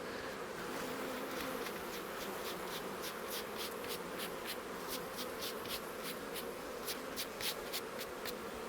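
Honey bees buzz steadily and densely as they are brushed off a hive frame, the hum continuous and close, overlaid by a run of quick, regular brushing strokes.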